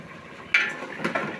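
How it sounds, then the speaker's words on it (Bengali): A metal lid lifted off a pot of simmering Bengali-style beef tripe (bot bhuna), giving a sharp clank followed by a second lighter knock and rattle, close and fairly soft. "ঢাকনাটা খুলে দেখব।"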